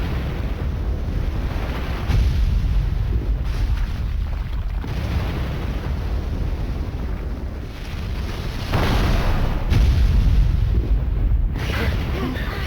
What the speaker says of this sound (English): The entire place is exploding now because a chandelier fell.